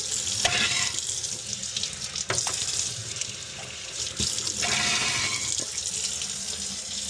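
Steady rush of water during maintenance on a newer-style Trane furnace, flowing continuously at close range with a few sharp knocks and clicks, no talking.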